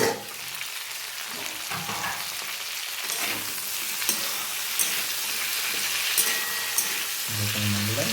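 Tender drumstick stems and potatoes fry in a pan for a vegetarian Bengali dish, a steady close sizzle with occasional light stirring taps throughout, no talking.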